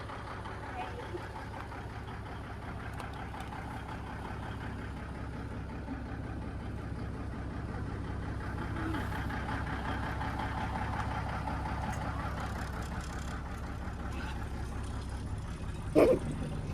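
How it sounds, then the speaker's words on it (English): A semi truck engine idles in a steady low rumble through the whole stretch, fairly quiet and constant, with a brief knock or clunk near the end. "First ride in the semi."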